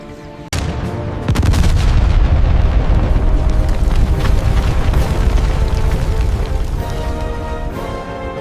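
A bridge explodes in a sudden loud blast, followed by a sustained rumbling roar with crackling debris, continuing heavy and close for several seconds.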